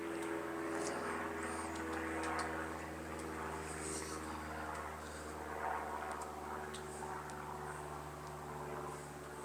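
A propeller airplane drones overhead, a steady, moderately loud engine hum that lasts throughout with a slight rise and fall, with no talking.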